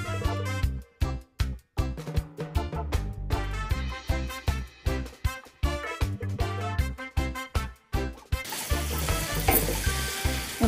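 Prawns fry with masala in a pan, a sizzle broken into rhythmic bursts by stirring, followed by a denser, steady hiss near the end, all close up with no talking.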